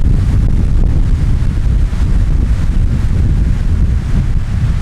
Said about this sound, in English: we still have quite a bit of wind again